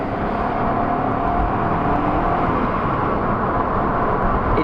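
A stock Honda Civic accelerates in second gear at moderate throttle, its engine drone rising steadily and filling the cabin at close range, loud and continuous throughout with no voices.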